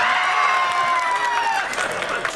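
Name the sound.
audience clapping at a carnival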